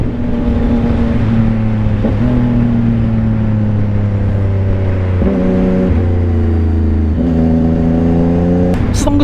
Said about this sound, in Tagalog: Ini-enjoy ko yung tunog ng motor.